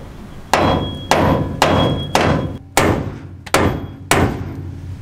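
Seven heavy metallic hammer blows strike a 60 Series body mount at a steady pace, each ringing briefly before the next, loud and close.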